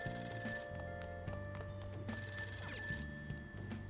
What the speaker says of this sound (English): That ringing sound isn't coming from my cell phone. I hear it coming from downstairs.